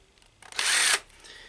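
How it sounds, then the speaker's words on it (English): A power drill with an airbrush needle clamped in its chuck spins up for about half a second, a loud, steady, high whine standing alone between quieter moments. "put my needle in my drill,"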